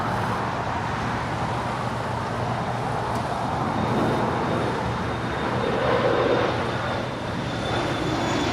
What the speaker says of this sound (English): It's the 777-300ER. She is now on short funnel for 24 right there on the north side.